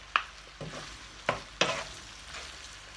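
Noodles for shrimp pad thai are stir-fried in a pan, with soft sizzling under a few sharp scraping and clattering strokes of the spatula, close and fairly quiet, no talking.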